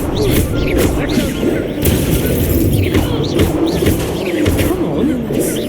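Fiery blasting spells crackle and burst repeatedly during a Hogwarts Legacy duel, loud and close, with a steady rumble of combat effects beneath them.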